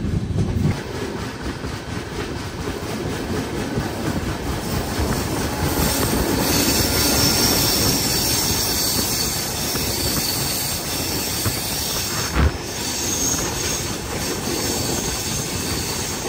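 An Indian Humsafar Express passenger train runs on rails, heard from aboard as a loud, continuous rumble with wheel clatter and metallic squeal, plus a brief sharp knock midway.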